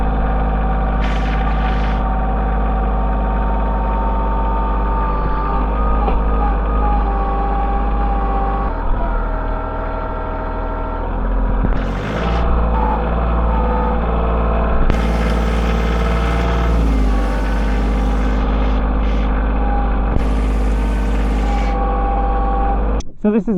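Tractor engine running steadily under load while lifting with a DIY forklift attachment welded from scrap metal, a loud continuous drone with rising effort in bursts.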